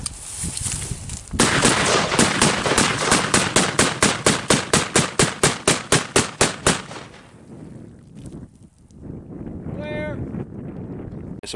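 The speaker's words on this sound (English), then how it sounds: "So we just shot the" A .223 rifle fires in an aluminum versus stainless steel penetration test: about twenty loud, evenly spaced reports in quick succession, each sharp crack fading slightly, followed by quieter outdoor ambience.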